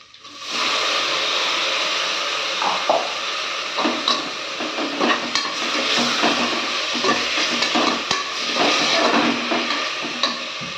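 Tomatoes sautéing in a pan for ghee rice give a steady, fairly loud sizzle with intermittent spatula scrapes and stirring taps running throughout, with no voices.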